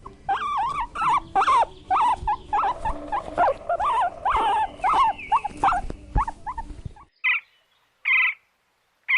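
A guinea pig squeaks in a rapid, busy run of high chirps and whistles for several seconds, then gives a few separated louder squeals after a brief pause, close and clear.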